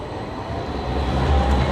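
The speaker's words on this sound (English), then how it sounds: "And more trams." A tram rolls past on an Edinburgh city street, a steady low rumble that swells slightly as it nears, close and continuous with no talk.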